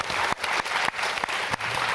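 Audience applause at a Moscow film festival event, loud dense clapping from a full hall that surges and dips in short waves.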